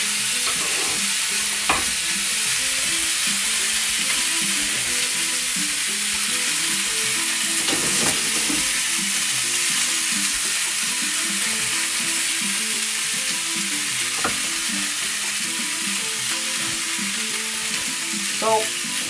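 Stuffed calamari sizzle steadily in a very hot pan, a dense continuous frying hiss with a few faint clinks and stirring scrapes, close and alone without talk.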